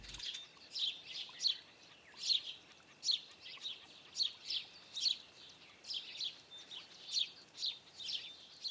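Tree sparrow near a garden nesting box gives a rapid run of bright, high chirps at a regular pace, fairly close, with nothing else heard.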